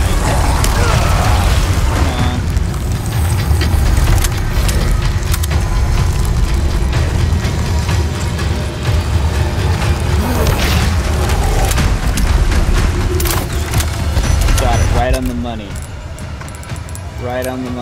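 Mine explosion set off by gunfire in the Resident Evil 4 Remake El Gigante fight, heavy booms and clattering debris within a dense, continuous stretch of loud game action, with someone talking throughout.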